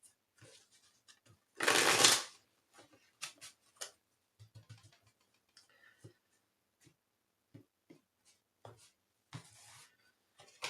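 A burst of tarot card shuffling, a quick riffle near the start, followed by soft scattered taps and rustles of cards being handled.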